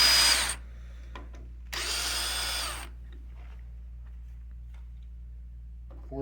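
Two bursts from a screw gun backing out the screws on a camera handle, one short and one longer, loud and close with quiet pauses between them and no talking.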